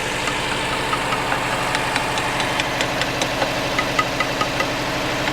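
A V8 Dodge Charger engine runs roughly with a loud, steady drone, overlaid with a faint, regular ticking knock that repeats evenly throughout.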